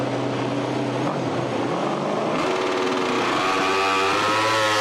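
An Aprilia RS MotoGP bike on track at the Thailand test screams loudly and steadily, its engine note climbing as it accelerates through the gears with no voices over it.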